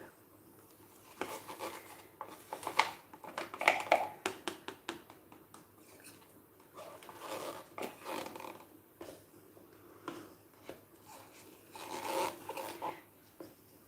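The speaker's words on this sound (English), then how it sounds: "I'm going to scrape off everything I can" A tool scrapes leftover paint into a cup, mixed Mont Marte acrylic with PVA and silicone, making soft close scratching and rubbing strokes in irregular bursts, fairly quiet.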